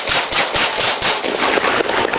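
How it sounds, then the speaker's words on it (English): A police officer fires a rapid volley of gunshots at a hostage-taker, recorded on a body camera: loud, close, evenly spaced cracks in quick succession, with no talk over them. "Shots fired, shots fired."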